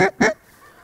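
Snow geese honking during a waterfowl hunt, two loud close honks in quick succession followed by quiet.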